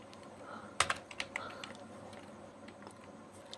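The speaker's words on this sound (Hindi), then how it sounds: "सबसे पहले टाइप करेंगे YSense" A short burst of crisp keystrokes on a computer keyboard, several quick clicks clustered together early on and then a few scattered taps, close and fairly quiet over a faint room hum.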